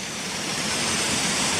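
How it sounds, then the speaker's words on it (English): A small waterfall beside a footpath near Gunnerside Gill pours in a steady, close, full rushing hiss, constant and loud with no voices. "I've just stopped with this little bit of a waterfall just beside this footpath new sign."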